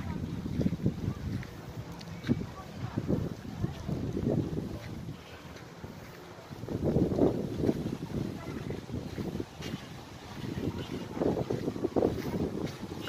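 Wind gusts buffet the microphone at a seaside resort with water sports, coming in rough, rumbling bursts that rise and fall across the stretch, with a short lull midway.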